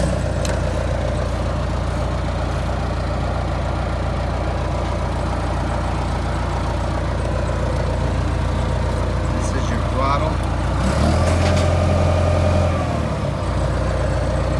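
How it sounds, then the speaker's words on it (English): A diesel engine on a CP433B compactor runs at a steady close idle, rumbling continuously and swelling briefly near the end, with voices heard faintly over it. "I'm gonna go ahead and start this tractor."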